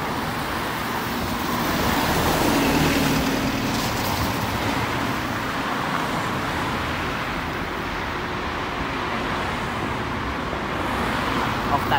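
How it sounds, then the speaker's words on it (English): A number 11 bus bound for Underhill passes along a Wolverhampton street, its engine rumble swelling and fading amid steady roadway traffic noise, with someone talking over it. "the first bus to come through is going to be an 11 going to Underhill"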